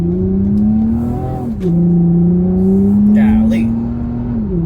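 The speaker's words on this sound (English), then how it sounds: "Like, you hear the exhaust in the background." A 2020 Toyota Camry TRD with a performance exhaust drones steadily while accelerating, its engine note rising and shifting under someone talking inside the car, with brief whooshes as other vehicles pass.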